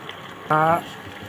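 Muthiya roti dumplings, a Chhattisgarhi dish, simmer in a pot of boiling water, giving a brief, close burst of bubbling and hissing that lasts under a second amid a quiet kitchen.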